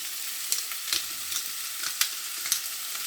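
Ackee and saltfish frying in a pan, a soft continuous sizzle broken by light, evenly spaced stirring taps and scrapes, close and fairly quiet with no talking.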